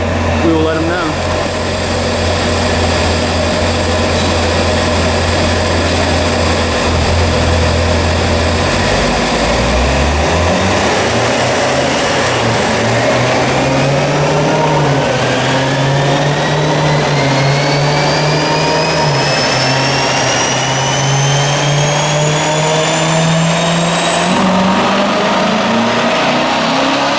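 Car engine on a dyno during a tuning pull, revving steadily upward with rising harmonics before cutting off early as the throttle closes; loud and close, with speech over the top.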